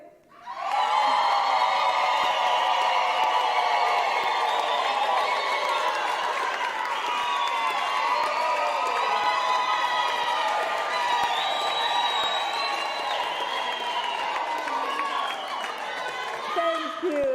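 A large graduation-ceremony audience claps and cheers for graduates, a loud, sustained roar of applause with whoops and shouting that fills the whole stretch without pause.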